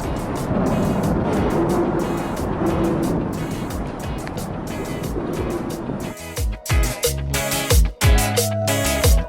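Traffic hums on a bridge overhead, tires, wind and vehicle weight making a continuous broad rumble that turns into choppy, uneven bursts of passing vehicles near the end.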